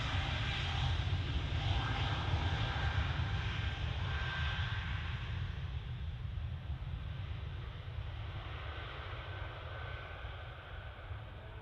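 A jet airliner roars close by at Manchester Airport, a loud sustained engine rumble with a rising whine, the tonal 'Wookiee' howl, slowly easing over the clip with no talk.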